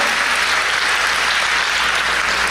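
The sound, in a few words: congregation applause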